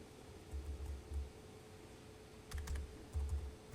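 Several short bursts of keystrokes on a computer keyboard as a word is entered into software, quiet and close, with soft mechanical thumps between pauses and no talking.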